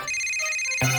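A phone ringtone sounds for an incoming call, a steady, bright electronic melody that holds throughout and swells louder near the end, with no voices over it.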